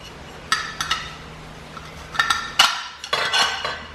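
Small metal pieces of an LED camping lamp clink and tap together in a few sharp, close bursts with quiet pauses between, no voices present.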